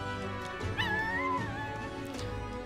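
A dog whimpers in the video game Metaphor, a high wavering whine rising and sliding over a steady musical backdrop, clear and fairly loud.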